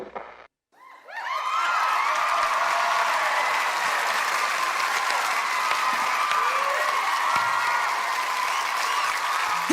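Sustained, loud applause and crowd cheering from a talent show audience for a dancer, starting after a brief quiet moment and filling the rest of the clip at steady intensity.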